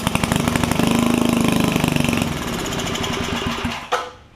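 A 50-year-old Wizard tiller engine with a bad ignition coil is cranked and chugs rhythmically without catching, the pulses fading before ending in a single thump.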